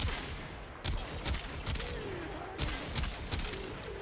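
Repeated bursts of Quartakk rifle fire in the video game Warframe, aimed at heavy gunner enemies: loud, close volleys in quick clusters with sharp attacks and ringing tails, no talking over them.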